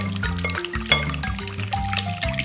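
Room-temperature milk pours into a bowl of oil and other wet ingredients for chocolate chip muffin batter, a continuous gurgling stream with shifting bubbly tones, close and clear.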